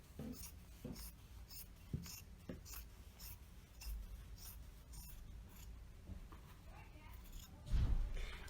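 Scissors snipping across the top edge of fabric for a memory pillow sewing project, a series of quiet crisp cuts and rustles close by, with faint background noise between them.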